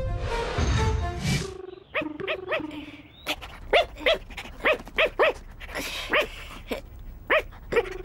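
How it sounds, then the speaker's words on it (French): A cartoon dog barking in a room, a run of repeated sharp barks at an uneven pace, some close together and some spaced apart, after a brief stretch of voices at the start. "J'ai entendu aboyer dans cette chambre."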